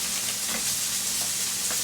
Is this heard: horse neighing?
no